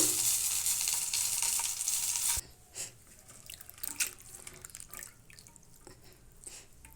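Oil sizzling and frying in a kadai, a loud steady hiss at first that drops away into quieter crackles, stirring scrapes and drips.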